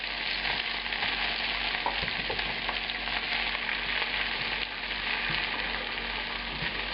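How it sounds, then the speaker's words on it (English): Mushrooms fry in oil and veal juices in a pan for veal scallopini, with a steady close hiss and sizzle and occasional small pops and stirring taps. "Now we've got a lovely amount of oil and veal juices to cook our mushrooms in."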